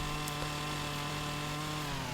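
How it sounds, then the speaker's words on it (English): Chainsaw cutting through a tree stump in the game Farming Simulator 25, a continuous buzzing whine at steady pitch, moderately loud and alone. "So now we should just be able to remove this stump with our chainsaw"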